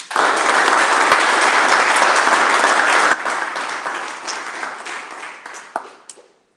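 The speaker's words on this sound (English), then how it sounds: "would like to just take a second to give them a nice round of applause for all of that." Applause at an annual board of directors meeting: a full, steady burst of clapping for about three seconds, then thinning into scattered, fading claps until it dies away.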